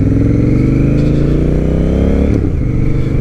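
A Honda Rebel 1100 motorcycle fitted with a TBR exhaust and silencer revs loudly up close, a deep steady engine drone that climbs in pitch, then drops abruptly as the throttle is released near the end.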